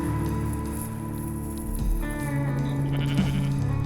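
A pure merino sheep at Mount Nicholas bleats loudly and close by in a drawn-out call, heard over steady rain pattering on a surface.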